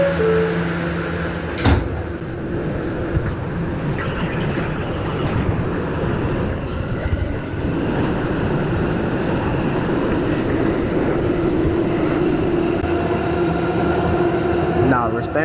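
A Bronx-bound New York subway B train, an R211A car, rumbles steadily along the track with a sharp clunk early on, rolling wheel noise and a faint chime, while a voice announces in the background.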